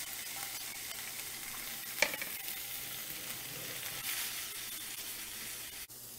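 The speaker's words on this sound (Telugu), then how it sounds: "ఆయిల్ హీట్ అయింది, పన్నీర్ ముక్కలు వేస్తున్నాను" Paneer cubes fry in hot oil with a soft, even hiss. A single sharp tap comes early on, and a brief dip follows near the end.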